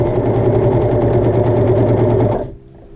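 A home overlock machine runs steadily at high speed, its blade trimming the fabric edge with a dense rapid whirring hum, then it stops abruptly near the end, leaving quiet.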